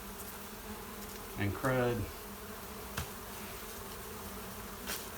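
Bees buzz loudly around fallen honeycomb inside a camper, a close angry burst of a second or so rising over steady background hum, with a few brief knocks after and a short spoken remark.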